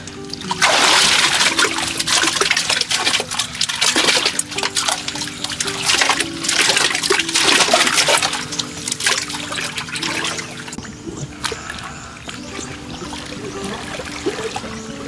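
River water rushes and splashes steadily into a fishpond, a loud continuous flow that eases slightly toward the end.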